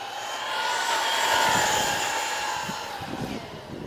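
The engine of the VIKAR Bison on a speed run roars at full throttle, a loud, sustained drone that swells and then holds steady, with a faint rattle underneath.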